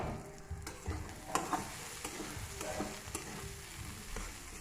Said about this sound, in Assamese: এইখিনি আৰু 5 মিনিট সময় ল' ফ্লেমত সিজিব দিম।